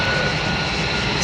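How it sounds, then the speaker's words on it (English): Packard-built, Rolls-Royce designed Merlin aircraft engine of about 1,700 horsepower roaring in a low flyby at an open house airshow, a loud, steady, close drone that fills the whole moment. "The Packard-built, Rolls-Royce designed Merlin engine."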